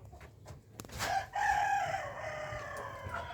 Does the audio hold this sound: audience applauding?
no